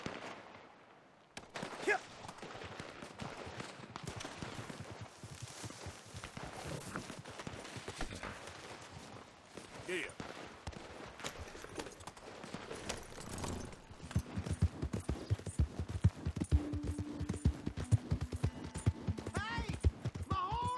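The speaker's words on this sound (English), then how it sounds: "Hey! My horse!" Horse hooves clip-clopping on a town street in the Red Dead Redemption 2 video game, a steady quiet patter of hoofbeats that grows busier toward the end.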